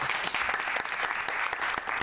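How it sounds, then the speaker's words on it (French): A studio audience applauding for an honoured guest, a dense steady round of clapping filling the whole stretch with sharp individual claps popping out. "que je vous demande d'applaudir."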